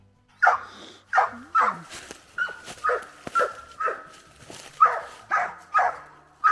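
Coonhound barking at a possum, a rapid series of about a dozen sharp, loud barks and yips in uneven rhythm, close by and outdoors.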